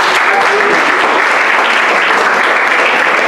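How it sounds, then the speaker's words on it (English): Dense, steady applause from an audience at a schools debate competition, loud and continuous with no voices standing out. "Clap your hands if you agree."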